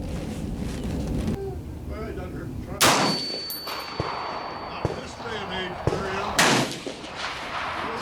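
Springfield M1A rifle fired through a scope at a 100-yard outdoor range: two sharp, loud gunshot reports a few seconds apart, with ringing after the first and a steady hiss of background noise between them.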